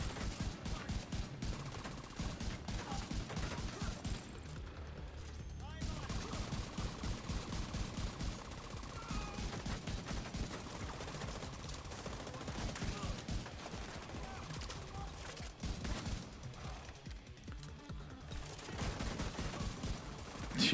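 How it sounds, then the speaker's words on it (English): Many enemies fire at once in The Division 2, with dense, overlapping rapid gunfire and bursts that continue steadily throughout, fairly quiet overall. "Too many enemies shooting me at once."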